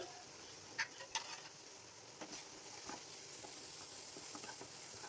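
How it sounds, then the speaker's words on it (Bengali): Peas fry in a pan with a faint, steady sizzle and hiss, broken by a few light clicks of stirring, and nobody speaks. "ছোট হাফ বাটি মটরশুঁটি দিয়ে দিলাম। একটু ভেজে নিচ্ছি।"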